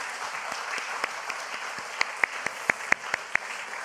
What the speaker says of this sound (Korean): 한번 박수로 한번 환영하겠습니다.